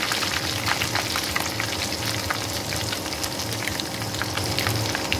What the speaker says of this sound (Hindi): गोल्डन ब्राउन होकर फ्राई करेंगे।